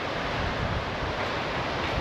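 Strong wind and surf on a busy Baltic beach at Stegna, Poland, with a steady, loud rush of wind and breaking waves that stays constant throughout, with no voices.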